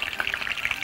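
Onions sautéing in ghee flavoured with mastic, a brief bright crackling sizzle with quick popping spatters, close up and without speech.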